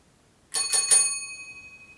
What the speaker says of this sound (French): C'était la cloche de l'hôtel.